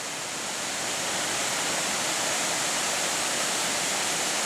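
Torc Waterfall on the Kerry Way roars as a steady, dense rush of falling water, loud and continuous with no other sounds standing out.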